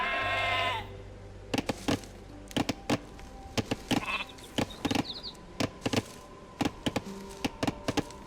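A sheep in Age of Empires II: Definitive Edition gives one clear bleat. A run of crisp, evenly spaced game interface clicks follows it.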